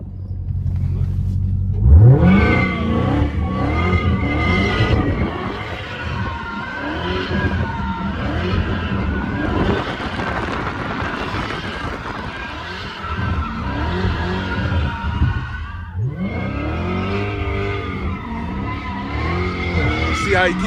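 Dodge Challenger Hellcat sliding in circles, tires screeching and skidding while the engine revs and roars loudly, rising and falling in bursts over about twenty seconds, close to the car.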